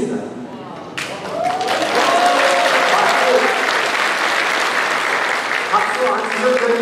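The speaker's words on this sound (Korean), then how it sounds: "박수 안 치셔도 됩니다" Sustained applause fills a crowded hall at a People Power Party rally in South Chungcheong, swelling after a second and holding steady and loud throughout, with faint voices mixed in.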